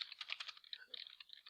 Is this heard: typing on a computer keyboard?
yes